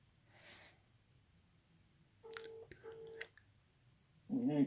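Telephone keypad dialing tones, a run of steady beeps in two bursts, followed by a ringing or connecting tone; fairly clear and alone with faint background hiss.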